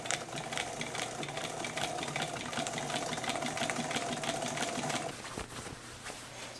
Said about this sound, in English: I'm just going to follow on the inside of the outer foot this seam and top stitch.